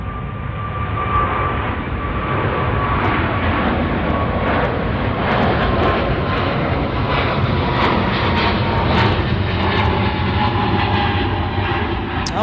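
Airliner engines roar steadily at Chicago O'Hare International Airport, a loud, continuous jet rumble close by that holds without a break for the whole stretch, with no voices over it.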